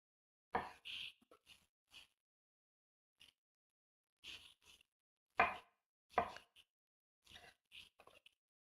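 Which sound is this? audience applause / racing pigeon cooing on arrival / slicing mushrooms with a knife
slicing mushrooms with a knife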